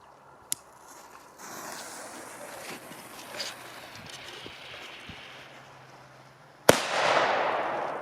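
Firecrackers outdoors: one sharp pop early, a stretch of crackling hiss with a few small snaps, then a loud close bang followed by a hissing burst.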